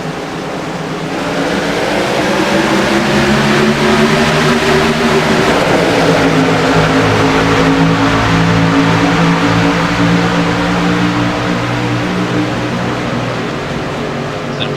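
Race cars from an amateur sportsman series roar back up to speed as a green-flag restart begins on an oval track, several engines rising in pitch together and holding a loud, sustained drone.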